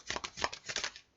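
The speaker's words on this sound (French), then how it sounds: "on va tirer une carte pour chaque colonne" Tarot cards shuffled by hand before one is drawn, giving a quick run of close, crisp riffling bursts over about a second, with no voices.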